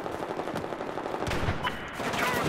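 Rapid gunfire rattles through a Battlefield match, a dense stream of shots with overlapping bursts and automatic fire, loud and continuous over the game's background rumble.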